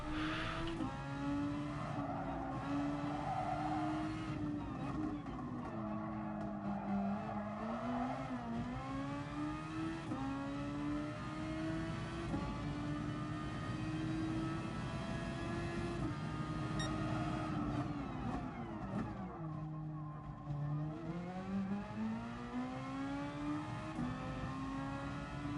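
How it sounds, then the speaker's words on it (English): Racing car tyres squeal through a long Gran Turismo cornering run, a continuous wavering whine that rises and falls in pitch over a steady engine drone, loud and close with no talking. "Squeal tyres, squeal!"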